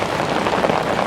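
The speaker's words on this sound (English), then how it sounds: "it's the most comfortable you can be walking through the rain." Heavy rain on a warm street in Ximending, Taipei, a loud, dense, steady patter close by that fills the whole brief moment with no talking.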